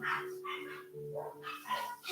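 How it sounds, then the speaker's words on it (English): Two dogs bark in a quick series of sharp, mid-distance yaps and barks, fairly loud and without speech over them. "the two dogs that are barking"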